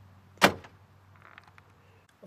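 Electric door locks on a 1969 Pontiac LeMans actuate with one sharp, close mechanical clunk, followed by faint rattles and quiet cabin noise.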